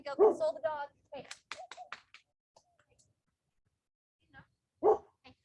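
A dog named Moose barks in a short burst of several sharp barks, then once more after a pause, fairly close by during a home workout session, with a person's voice in between.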